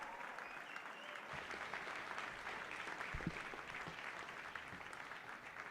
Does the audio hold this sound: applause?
yes